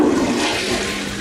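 A toilet flushes within the Skibidi Toilet animated series, a steady loud rush of swirling water that fills the whole short stretch without any voices.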